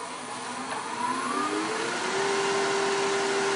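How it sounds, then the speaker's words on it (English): A wooden spindle spins on a lathe while a spindle roughing gouge cuts into it, giving a steady, continuous whirring hum with faint rising tones, close and even throughout. "I'm going to start with a spindle roughing gouge."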